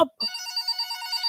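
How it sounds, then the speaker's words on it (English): Classic telephone bell ringing steadily after a brief pause, with a continuous bright trilling ring, evoking an old wall-mounted kitchen phone, loud and close with no talk. "Pick up your phone, Red Afro."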